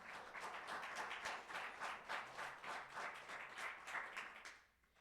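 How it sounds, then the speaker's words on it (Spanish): Congregation applauding at a Christmas church service, a steady burst of many hands clapping that carries on for several seconds before fading out near the end. "Se merecen un aplauso."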